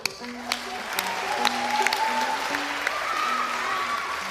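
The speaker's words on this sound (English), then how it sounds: "that's right, clap for Joey" Audience clapping at a storytelling festival, a crowd's claps rising and continuing steadily in a live hall with some voices and cheering mixed in.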